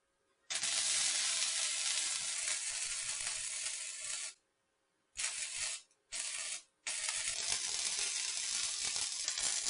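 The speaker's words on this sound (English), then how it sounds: "All right, we're going to weld it." A tailgate for a 1950 Ford F1 truck being welded, loud continuous crackling hiss of the arc in long bursts, broken by two short pauses and a couple of brief welds before resuming.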